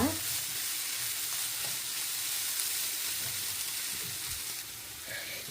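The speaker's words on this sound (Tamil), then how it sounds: "இதை நல்லா மிக்ஸ் பண்ணிக்கிறோங்க" Egg idiyappam kothu frying and being stirred in a pan: a steady close sizzle with soft scraping strokes throughout, no talking.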